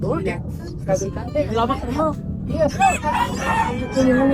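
Several birds at a pet market in Angeles City crow and cluck nearby in a busy chorus while people talk over them.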